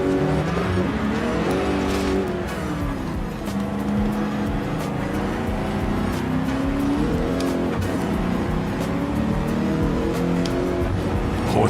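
A British race car's engine in Gran Turismo 7 on PS5, loud and continuous, revving and shifting through gears in a sustained roar with tire noise, close and with no talk over it.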